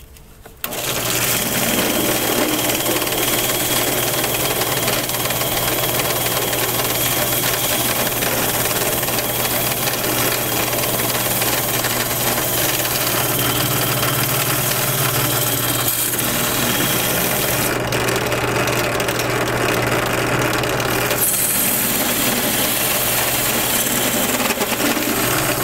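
A power sanding tool whirs continuously against wooden letters, a steady high buzzing drone that runs almost unbroken for the whole stretch.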